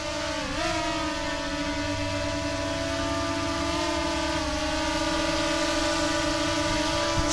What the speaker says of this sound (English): This thing's always been a louder drone.